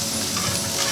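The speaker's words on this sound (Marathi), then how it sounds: "क्रिस्पी फ्राय प्रॉन फ्राय करतोय. हे टाकलं लसूण." Prawns and garlic crisp-frying in hot oil, a dense, even sizzle heard close up for a brief moment with nothing else over it.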